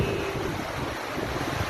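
Steady wind roars across the microphone, with a broad, constant rush and low rumble that could also carry distant surf.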